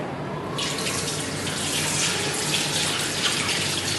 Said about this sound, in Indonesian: mencuci tangan menggunakan sabun dan air mengalir